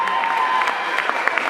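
Audience at the Miss Cameroun Suisse 2016 pageant final applauding and cheering the candidates, a dense, steady wash of clapping with scattered whoops throughout.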